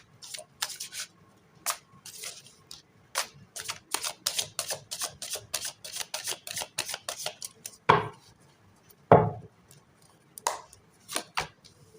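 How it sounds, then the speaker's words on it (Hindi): Tarot cards being shuffled by hand, a quick run of crisp slaps and riffling clicks with two heavier thumps near the end, close and fairly loud with no talking. "Last shuffle."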